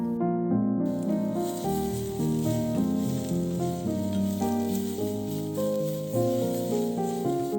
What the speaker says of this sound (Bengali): কড়াতে তেল গরম হলে কালো জিরে কাঁচা লঙ্কা ফোড়ন দিয়ে কিছুক্ষণ নাড়াচাড়া করার পর রসুন কুচিগুলো দিয়ে দেবো